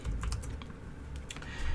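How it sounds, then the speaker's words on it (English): Quick keystrokes on a computer keyboard, a handful of close, light taps in short irregular bursts over a low background hum. "I'm just gonna type here."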